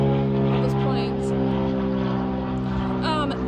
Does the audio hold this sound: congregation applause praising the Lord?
no